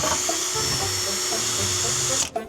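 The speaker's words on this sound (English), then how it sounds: "I'm gonna drill some holes in it with proper tools." A power drill boring holes in a barrel, whining steadily at high speed, close by, running continuously before cutting off abruptly near the end.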